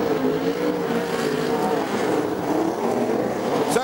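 Sprint cars racing at Avalon Raceway, a dense, continuous engine roar with wavering pitch as the pack runs past, loud and sustained throughout.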